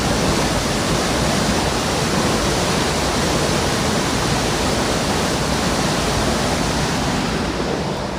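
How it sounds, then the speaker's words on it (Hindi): Water rushes through the gates of a dam in Pakistan as a loud, steady roar with a constant wash of spray that holds unchanged from start to finish, with no voices. "ये चेक कर सकते हैं आप, पानी का शोर चेक करें।"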